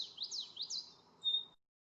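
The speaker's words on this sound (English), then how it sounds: "And this is a common yellowthroat." Common yellowthroat song in reeds and shrubs: a short series of rapid, high, sweeping chirped notes repeated in quick succession, then a brief thin high note, fairly faint over a low background hiss.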